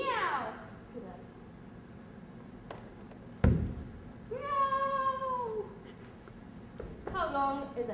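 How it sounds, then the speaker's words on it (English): A cat meows several times, drawn-out rising and falling cries, with a sharp thump partway through and a low background hum. "What sound does a cat make? Meow."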